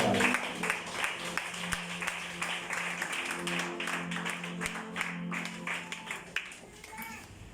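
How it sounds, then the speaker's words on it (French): A church congregation standing and clapping for the Lord: steady crisp applause with sharp individual claps, fairly quiet and roomy, with faint voices mixed in. "Mettons-nous debout et acclamons pour le Seigneur."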